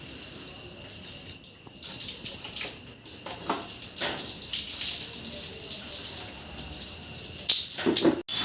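Kitchen tap water running steadily while a cup is washed, a continuous close splashing stream with brief clinks near the end.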